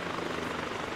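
A helicopter in the video game ArmA 2 gives a loud, steady rotor and engine roar that fills the short moment without any break.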